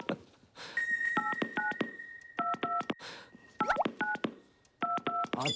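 Keypad tones of a red telephone being dialed, crisp beeps in quick clusters of two or three separated by short pauses, close and clear with a faint dial tone behind the first bursts.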